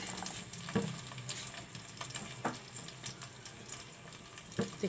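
Tomatoes frying in mustard oil on a stove: a continuous soft sizzle with occasional stirring scrapes and clicks, fairly quiet throughout.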